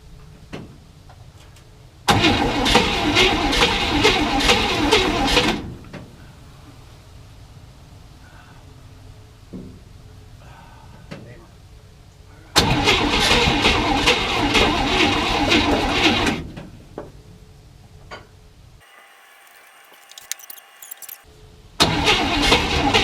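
A 327 V8 in a 1967 Chevy C10 pickup fires up for the first time during a build, running loud in three separate bursts with quieter lulls between them.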